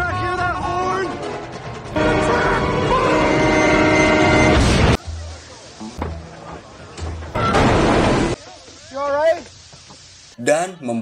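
In a superhero film scene, a train bears down on a man on the tracks, with a roaring, horn-laden rush that surges twice, while a narrator talks over it.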